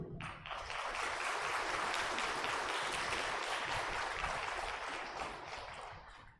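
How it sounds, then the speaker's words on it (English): An audience at a university orientation programme gives a sustained round of applause, a dense wash of many hands clapping that swells quickly, holds steady for several seconds, then tapers at the end, with no speech over it. "Big round of applause for all of you."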